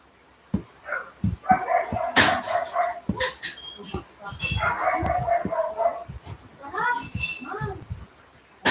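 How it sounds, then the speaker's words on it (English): Several dogs bark and yip excitedly at a place crowded with people, repeated sharp barks in uneven bursts close by, mixed with whimpers and a steady background of voices. "the dogs are pretty noisy. Anytime we got anybody different here, the dogs go crazy."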